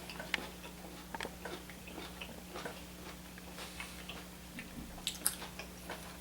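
Crunchy braised red cabbage with onion and cinnamon being chewed close up, a string of small crisp ticking crunches spread unevenly over several seconds at low level, with no talking.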